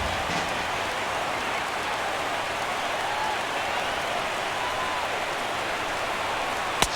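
A stadium crowd of over 39,000 on its feet at a Nationals–Giants baseball game makes a dense, steady roar. It sounds like distant rushing noise and holds level throughout, with a single sharp crack near the end.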